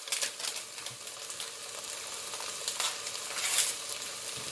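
Ground meat sizzles in a hot pan with a steady soft crackle and occasional scraping stirs, quiet and close, without any talking.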